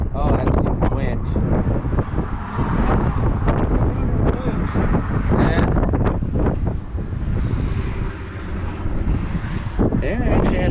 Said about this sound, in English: Oh, that's stupid wind.